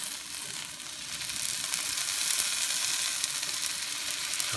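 Garlic hitting frying onions in a pan, a bright continuous sizzle that swells slightly and holds steady, close and alone.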